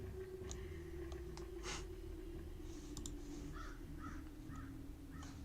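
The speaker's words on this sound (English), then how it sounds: "There's a crow outside." A crow caws outdoors, several short harsh calls spaced about half a second apart near the end, faint and distant over a steady hum with scattered clicks.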